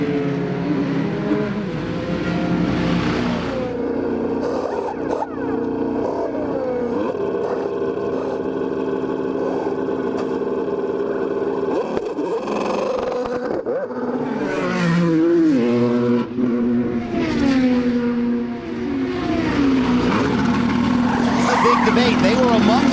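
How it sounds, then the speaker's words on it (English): IndyCar race cars collide on a street circuit, an orange and black car tangling with a red and white one, with tire squeal and engine roar under steady commentary talk throughout. "That orange and black car gets together with Marcus Ericsson in the red and white car"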